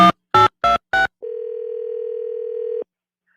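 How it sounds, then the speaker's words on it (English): A telephone dials a random number: four short keypad tones in quick succession, then one long steady tone, all loud and clear with no talk. "I'll just call the number at random, and whoever answers the phone, I'll see if I can keep them on the phone"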